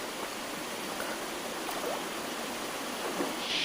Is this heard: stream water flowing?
yes